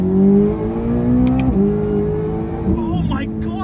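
A Corvette ZR1X engine with turbos pulls hard in third gear, a loud, close, rising drone that climbs steadily with a brief dip and then climbs again.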